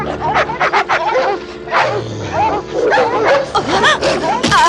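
Several dogs cornered in an alley bark, yip and whimper in an agitated, overlapping chorus, close and loud, with high whining cries rising between the barks.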